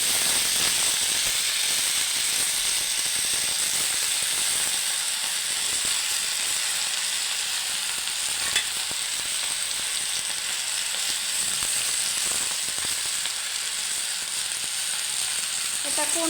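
Jute greens frying in an open pan, a steady bright sizzle with occasional stirring scrapes and faint talk underneath.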